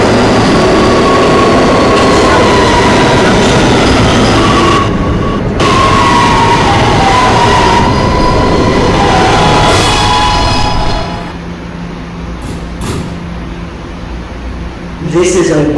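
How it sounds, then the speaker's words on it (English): An R211A subway train on the B line runs with a loud, continuous rumble and a shifting motor whine, easing into a quieter rolling near the end before a short burst of noise; an automated voice announces over it. "This is a westbound B train."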